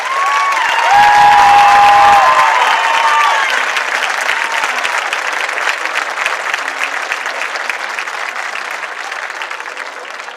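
A crowd at a high school football homecoming ceremony breaks into loud applause and cheering, with a brief whistle-like tone early on, then the clapping gradually thins and fades over about ten seconds.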